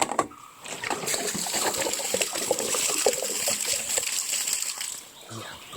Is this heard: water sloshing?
yes